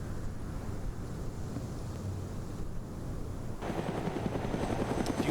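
In an OFCRA PvP match in a video game, a helicopter makes a steady rotor drone with wind-like rumble, then grows louder and more pulsing as it comes closer, with no talk.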